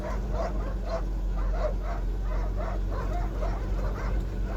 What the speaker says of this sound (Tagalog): Yan na yung mga asong gala.